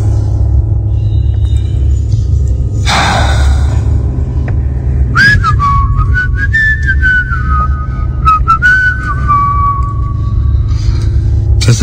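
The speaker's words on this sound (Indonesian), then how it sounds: "Sesekali aku bersiul mengusir rasa sepi." A lone person whistling in an empty office at night: a clear wavering melodic whistle, close and loud, over a low steady rumble with a short scraping burst before it.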